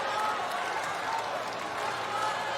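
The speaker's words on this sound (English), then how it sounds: "the crowd erupted thinking Young had enough on the poach volley" A tennis crowd at a US Open quarterfinal doubles match breaks into loud, sustained applause mixed with cheering, a dense roar of clapping that stays steady for a few seconds.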